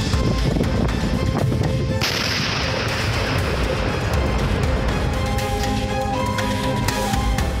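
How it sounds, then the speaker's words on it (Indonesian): A dense roll of blasts and crackling bursts from expired ammunition going off in Garut, West Java, loud and continuous, with sharp pops layered over a rumbling wash. "update ledakan amunisi di Garut,"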